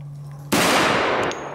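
A single loud gunshot from a powerful handgun, Dirty Harry's revolver in a ranch-destruction game, cracks sharply after a low hum, followed by a ringing metallic decay.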